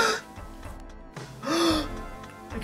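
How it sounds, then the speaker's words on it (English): A voice actor gasps sharply a couple of times, short breathy intakes close to the mic with a brief voiced catch in the middle. "I can hear myself gasping."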